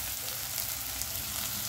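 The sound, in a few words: chopped onions frying in mustard oil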